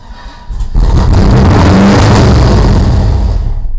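An LS-swapped BMW E36 engine fires up for its first start after a brief quiet moment, then holds a loud, close, rough, steady roar.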